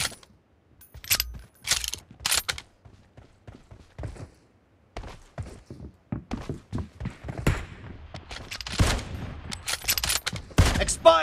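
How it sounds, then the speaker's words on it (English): Weapon reloading in PUBG: a run of sharp metallic clicks and ratcheting mechanical snaps, close and crisp, with short bursts that grow busier and louder toward the end. "Reloading!"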